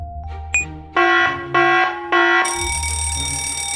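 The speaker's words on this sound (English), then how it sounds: "It's a fire alarm." A cartoon fire alarm rings out in three loud, evenly spaced electronic bursts, then settles into one continuous, shrill ringing tone, close and with no talking over it.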